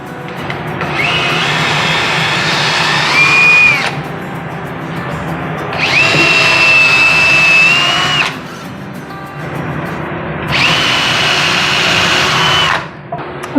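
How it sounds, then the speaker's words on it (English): A cordless drill whirs in three separate bursts of a few seconds each, boring into wood with short quiet pauses between. "when you drill, you typically want a piece of wood under it."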